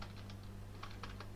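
Quick soft keystrokes on a computer keyboard, a short burst of typing close by over a low steady hum, no voices.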